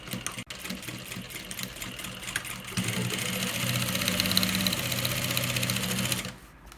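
A sewing machine stitches the fabric lining of a baby's outing bag, with a short quiet start and then a steady, close, continuous mechanical whirr that runs for several seconds and cuts off near the end.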